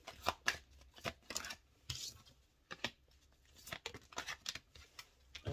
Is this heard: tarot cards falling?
yes